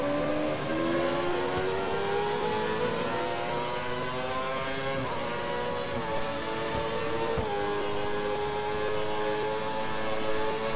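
An F1 car in the F1 2013 racing game, running on the Shanghai circuit behind the safety car, holds a steady loud engine drone with rising and dipping pitch, shifting gears a few times over roughly ten seconds.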